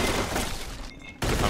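Tommy gun fire in the crime game Mafia 2, a loud dense burst of automatic shots that cuts out briefly and resumes, close and harsh with no talk.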